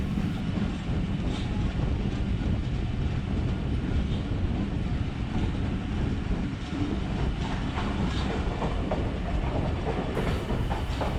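The Karachi Express passenger train rolls slowly through Riazabad on the Multan to Lahore line, producing a continuous loud rumble with a rhythmic clatter of wheels on rail joints, heard steadily from on board.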